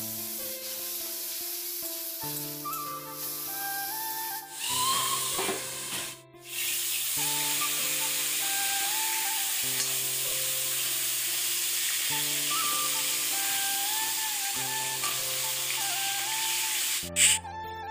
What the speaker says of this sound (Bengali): আদা রসুন পেঁয়াজ সমস্ত মশলা দিয়ে মাছের মাথাটাকে ভালো করে কষিয়ে নিয়ে